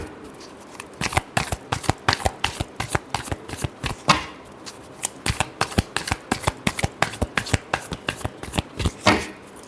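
Tarot cards are shuffled close by in quick bursts of riffling and flicking, pausing briefly and then resuming in rapid crisp rounds, with no talking.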